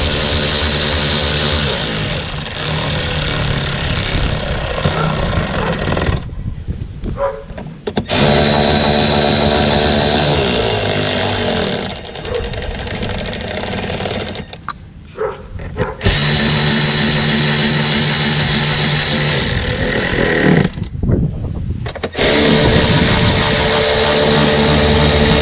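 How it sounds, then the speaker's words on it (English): A power tool whines in several long bursts while tightening bolts on a Ford Bronco front door panel, with short pauses between runs; loud and close, no talk. "When I tighten, I like to tighten in an X pattern."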